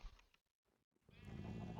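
Minecraft sheep bleats twice in a GTNH modpack world, short wavering calls with a gap between them, followed by a rising rush of ambient game noise; no talk.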